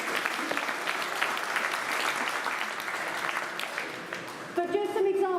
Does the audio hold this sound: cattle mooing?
no